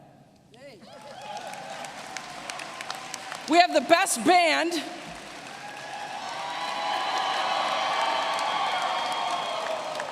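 After a voice speaks over the hall, a convocation crowd cheers and applauds, a rising wash of clapping and whoops swelling in the background and holding through the second half.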